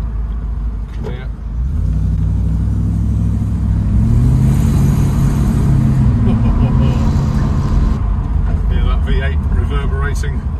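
A Triumph Stag's V8 engine rumbles close by as the car drives, climbing to a loud, sustained roar and then easing back near the end.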